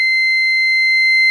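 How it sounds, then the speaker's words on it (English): The piezo buzzer of a DIY touch-free photocell water detector gives one loud, steady, high-pitched electronic tone that holds for the whole moment with no break. "it triggers pin 13 to go high, which turns on the buzzer"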